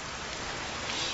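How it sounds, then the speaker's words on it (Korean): Sudden rain shower as a radio drama sound effect: a steady, dense hiss of falling rain, even and unbroken throughout, fairly loud and close, with no voices over it. "아, 이거 소나기구만."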